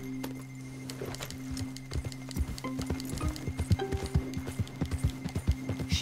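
Horse hooves clip-clop at a steady trot in Red Dead Redemption 2, a regular run of crisp clops that grows louder and denser toward the end, with no talk.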